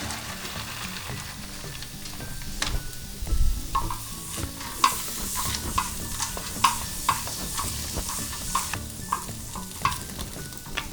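Green onions, peas and carrots fry on a hot grill griddle, a steady sizzle broken by repeated scraping and clacking of a spatula as the vegetables are stirred, close and with no talking.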